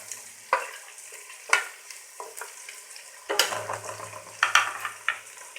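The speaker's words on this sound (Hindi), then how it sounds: "ये मसाला डालने के बाद मज़ीद इसको 1 मिनट तक भूनेंगे" Minced meat qeema fries in a pan with black pepper and whole cumin, crackling and sizzling under repeated sharp scrapes and stirs of a spoon, close and fairly loud.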